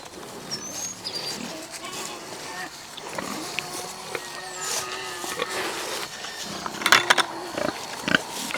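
Pigs grunting and squealing nearby amid shuffling and clatter, with a few sharper squeals toward the end.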